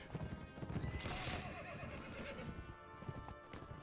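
Cavalry horses in the Mount & Blade: With Fire & Sword battle game, one struck by fire, neigh loudly amid rapid hoof clip-clops and battle noise, a shrill whinny rising over the galloping.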